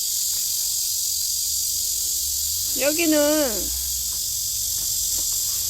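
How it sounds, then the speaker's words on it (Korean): A constant high-pitched cicada drone fills the background of a countryside scene, loud and unbroken throughout, while a person briefly speaks in the middle. "매미가 저렇게 오네. 찌리리리 오네."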